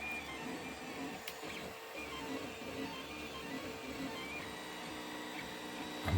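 A 3D printer lays down PLA filament just after finishing its raft, producing a quiet, continuous mechanical whir with soft stepping textures and no pauses.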